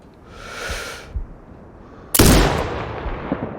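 A sniper rifle fires in the video game Sniper Ghost Warrior Contracts 2, giving one sharp, loud crack with a long rolling echo. A softer shot-like thump and other quieter game noises come before it.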